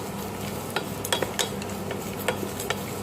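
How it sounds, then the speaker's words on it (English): Fresh grated coconut and spices roasting in a single pot, with soft scraping stirs and a few sharp utensil clicks against the metal over a faint sizzle, close and fairly quiet. "Roast till everything is golden brown."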